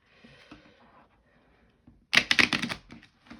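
A quick run of crisp, rapid clicking and riffling bursts, like cards being shuffled, following a few soft faint taps near the start.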